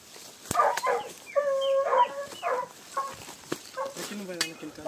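A hunting dog yelps and barks in short, excited bursts during an armadillo hunt in leafy brush, close and loud, mixed with rustling and sharp knocks.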